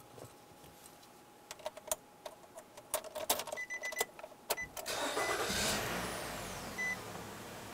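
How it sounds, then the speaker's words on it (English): A few clicks and ticks come first, then a 2008-2013 Nissan Rogue engine catches and settles into a steady, fairly quiet idle. "start up the vehicle, let it run at idle for about 10 minutes"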